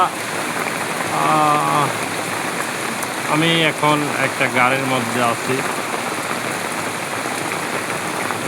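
Steady rain falls on a car, heard from inside as a dense, even hiss, with someone talking briefly over it before the rain carries on alone.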